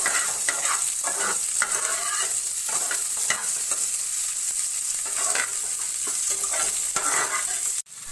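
Chopped capsicum, carrots and onions fry in a pan with cooking oil, giving a steady hiss and sizzle while a utensil scrapes and stirs them in irregular strokes. The sound stays close and dense for the whole stretch, and no one speaks.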